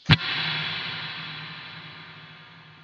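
A single sharp hit is followed by a long, washy reverb tail that slowly fades over nearly three seconds.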